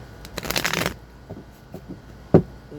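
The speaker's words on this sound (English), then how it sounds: "Let me shuffle them again." A deck of tarot-style reading cards is riffled in one quick crisp burst, followed by quiet handling and a single sharp tap or snap of the cards.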